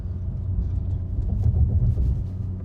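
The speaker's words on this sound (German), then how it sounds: "Wir fahren jetzt gleich über Bahnschienen drüber." Low rumbling road noise from a BMW M2 Competition rolling over railway tracks, a steady engine drone with a few soft bumps and thuds in the middle.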